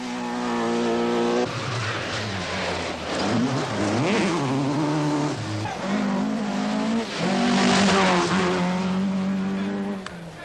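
Rally cars race past at Portugal Rally 1982, among them a rasping air-cooled Porsche, engines droning and revving loudly and continuously with rising and falling pitch as they accelerate and pass.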